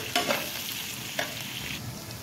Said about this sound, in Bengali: আলুটাকে দিয়ে আমি একটুখানি আবার কিন্তু এটাকে ভালো করে মিক্স করে নিচ্ছি 2 থেকে 3 মিনিট